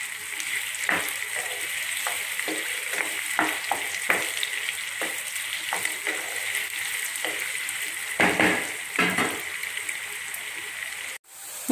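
Indian gooseberries sautéing in oil for a pickle, a continuous loud sizzle and crackle of frying with repeated scraping stirs of a utensil in the pan.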